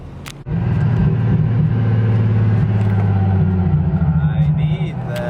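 A VQ37-swapped Nissan Silvia S15 Spec R with rolled fenders fires up and settles into a deep, steady, loud engine rumble. Voices are faintly present under the drone.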